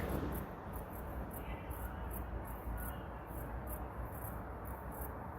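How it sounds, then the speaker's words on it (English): Crickets chirping at night beside a rural bridge, a continuous high, rapid pulsing trill at regular intervals, fairly faint and steady, with a soft low background hum beneath and no talking. "I haven't really heard any other strange noises besides the fucking crickets."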